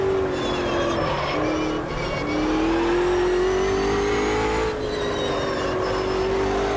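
Ultima GTR race car in Automobilista 2, engine held at high revs with a steady rising whine that dips briefly at shifts near two and five seconds, loud and close.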